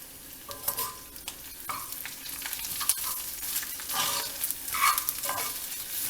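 Shredded coconut frying in a pan for turmeric chutney, a steady broadband sizzle with scraping stir strokes and brief clatters, close and moderately loud, with no talking.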